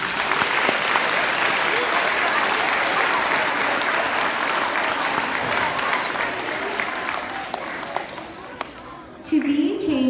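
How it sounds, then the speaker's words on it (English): A crowd at an elementary school grand opening applauds loudly and steadily for about nine seconds. The clapping fades near the end, and a voice starts speaking as it dies away. "Let's give them a round of applause"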